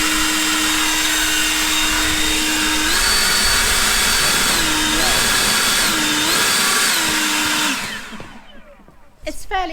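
EGO cordless leaf blower running at full power on turbo in a back garden, a loud steady whine and rushing air that steps up and down in pitch several times, then cuts off abruptly near the end.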